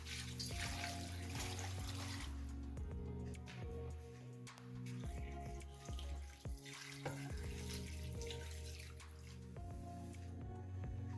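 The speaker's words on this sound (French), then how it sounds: "On va rajouter de l'eau." Water runs from a tap into a pot in a continuous splashing stream with drips and small knocks, the tone rising as the pot fills, heard close and without speech.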